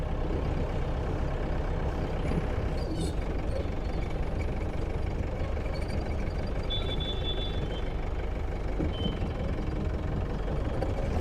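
A monster jeep engine rumbles continuously while driving, loud and close with a dense, steady roar and no pauses.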